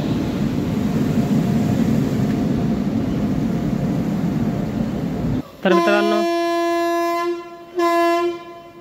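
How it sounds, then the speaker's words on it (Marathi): Loud rumbling train noise fills the air as the Nagpur–Kolhapur Express reaches platform 1 at Barshi station, then stops abruptly and a blaring train horn sounds in two long blasts with short breaks. "Nagpur Kolhapur express platform number 1 वरती बार्शी रेल्वे स्टेशनवर आलेली आहे"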